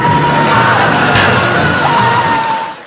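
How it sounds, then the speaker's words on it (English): A woman in a King Kong film lets out a long, loud, shrill scream that holds for nearly three seconds over a rumbling background before cutting off. "Yeah, scream some more, maybe he'll finally go away."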